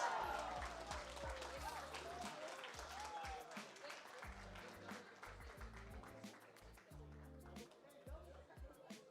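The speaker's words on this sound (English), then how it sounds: "Let's give another round of applause to 8995R." An audience applauds an award-winning team at a youth VEX robotics competition, clapping loud at first and thinning over several seconds, with crowd chatter and background music running beneath.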